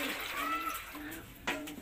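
Water splashes and trickles steadily into a bottle being filled for a homemade pigeon water drinker, a soft continuous pouring sound with a brief clunk near the end.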